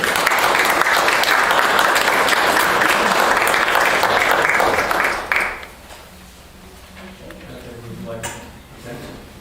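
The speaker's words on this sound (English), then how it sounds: "So would we have a round of applause for everyone?" Loud, sustained round of applause from a room full of people at a township board of supervisors meeting, clapping for about five seconds before fading into quiet murmuring.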